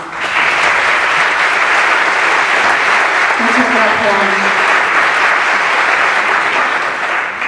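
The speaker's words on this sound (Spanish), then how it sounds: "para lo que pedimos un aplauso" Audience applause at the gala of the 8th Asturian film festival, a dense, loud, sustained clapping that fills the whole stretch, with a brief voice speaking over it partway through.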